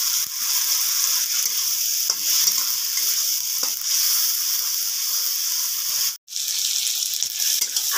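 Onion with ginger-garlic paste and chopped tomato frying in oil while being stirred: a loud, steady close-up sizzle with scraping stirs throughout and a brief break near the end, no talking.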